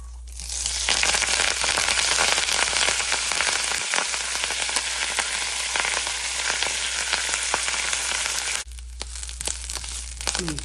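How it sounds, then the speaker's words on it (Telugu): Curry leaves fry in hot oil with loud, continuous sizzling and crackling, which drops briefly near the end and then carries on. "మన కరివేపాకును వేయించుకుందాం."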